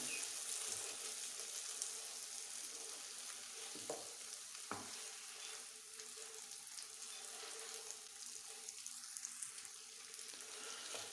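Sizzling frying of brain masala (bheja, mutton brain) in a pan, a steady hiss running throughout with a couple of brief utensil knocks near the start and no talk.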